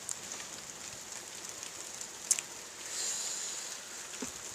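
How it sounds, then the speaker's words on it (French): Moderate rain falls steadily during an October thunderstorm near Carpentras, a soft continuous hiss with a few sharper drop impacts close by. "La pluie est modérée."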